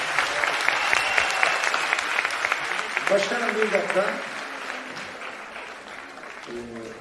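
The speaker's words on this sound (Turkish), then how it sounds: "Sahneye bir kez daha alkış rica ediyorum" Applause from an audience at a stage greeting ceremony, loud and dense for about four seconds, then thinning as someone speaks over it and the clapping fades to a lighter patter.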